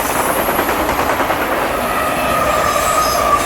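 A Conrail freight train rolls past close by in Germantown, a loud steady rumble of railcars with clacking wheels and a faint squeal.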